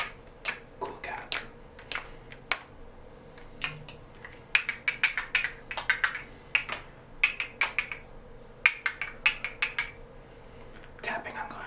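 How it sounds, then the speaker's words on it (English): Fingernails tap and click on glass perfume and cologne bottles in a quiet ASMR setting, bursts of sharp, bright, close taps in quick irregular clusters with short pauses between. "Tapping on glass is one of my favorite triggers."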